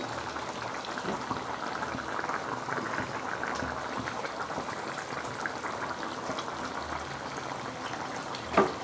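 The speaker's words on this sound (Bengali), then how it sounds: "জলটা যখন ফুটছে" Rupsa fish curry gravy boils in a pan, a steady close bubbling and gentle spattering that runs evenly throughout, ending with a single sharp clink.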